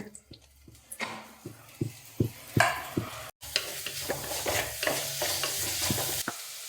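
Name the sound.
onions frying in a pan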